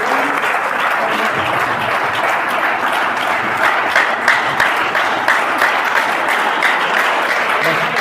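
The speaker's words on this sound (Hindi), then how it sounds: "आप ताली बजाओ" Steady, loud applause from a seated audience at a business seminar in India, a dense wash of clapping that carries on evenly with faint voices mixed in.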